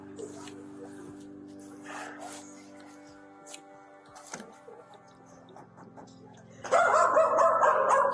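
Dogs at a house in Watts bark and yip in scattered bursts during a police visit, with faint voices around them, then break into a louder, sustained burst of excited barking near the end.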